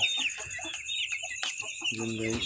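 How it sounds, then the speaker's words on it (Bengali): Broiler chickens cluck and squawk close by in short, irregular bursts, with a few higher calls mixed in and no talking. "আর আমার এইগুলো ব্রয়লার মুরগি"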